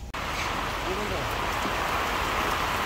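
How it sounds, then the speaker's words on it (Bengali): Steady rain pours down during a storm in the Sundarbans near the Pasur river mouth, a dense, even hiss of drops that holds at constant loudness throughout with no talk. "বৃষ্টি নামলো"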